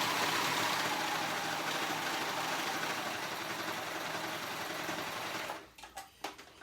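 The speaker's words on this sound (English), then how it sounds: "I'm doing my cover stitch" A cover stitch sewing machine runs in one long, steady, close whir on a child's dress, then stops, leaving a few soft knocks of fabric handling.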